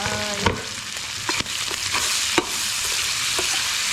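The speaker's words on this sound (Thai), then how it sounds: "ผัดให้หอมหอม" Garlic and shallots stir-fry in hot oil with a steady loud sizzle, broken by several sharp scrapes and clacks of a utensil against the pan.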